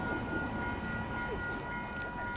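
A tram rumbles past near a university campus, a dense continuous roar with a steady tonal whine, loud and close throughout.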